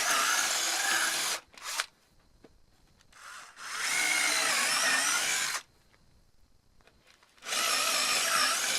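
A power drill bores holes in wood for a wooden motorcycle platform, with loud whirring bursts close by: a long run, a short blip, then two more sustained runs separated by quiet pauses.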